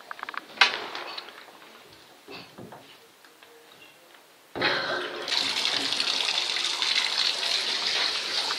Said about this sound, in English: Turn it on the shower.